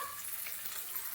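Onions frying in a pan for a mutton curry, a brief continuous bright sizzle with a faint stirring texture and no voices.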